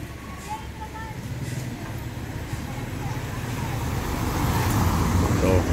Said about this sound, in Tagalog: dalawang jeep ito